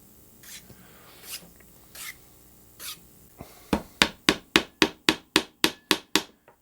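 Wooden dowel pin hammered down into a guitar build at the bench: a few soft scattered taps, then about ten sharp, evenly spaced hammer blows in quick rhythm, close and loud.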